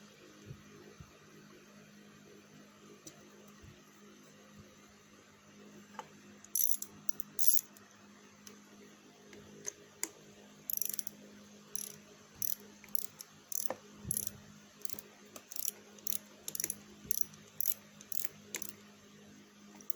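A ratcheting wrench tightening a lock nut on a bolt during a 4000 km vehicle service: quiet background hum, then bursts of rapid clicking ratchet strokes in an irregular series, faint and close.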